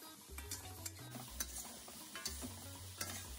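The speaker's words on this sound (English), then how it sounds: "I'll add the rest of my vegetables and I'll stir fry for another" Vegetables are stir-fried in a pan, a quiet hiss of frying under repeated scraping and clacking stirs in an uneven rhythm, close by with no speech.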